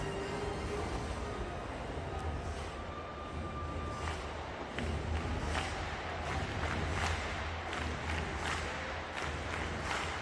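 A stadium crowd at a para athletics meet cheers and murmurs steadily from a distance, swelling slightly partway through, with faint voices mixed into the broad roar.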